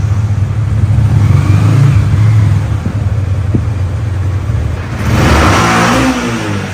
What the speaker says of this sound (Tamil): பைக் ஸ்டார்டிங் ஆயி சேஃபா நிப்பாட்டியாச்சு.